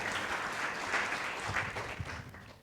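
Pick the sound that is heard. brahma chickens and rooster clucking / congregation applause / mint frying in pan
congregation applause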